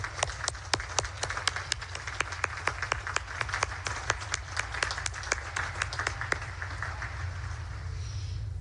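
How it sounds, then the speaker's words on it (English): Audience applause at a Naval Academy commencement ceremony, a broad sustained roar of many hands clapping across a large crowd with a few sharp, close claps standing out, continuing steadily throughout. "How about one more round of applause for our parents out there?"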